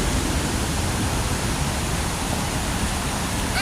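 The waterfall at Ricketts Glen State Park, running high, roars in a dense, unbroken wash of noise that fills the space, loud and close.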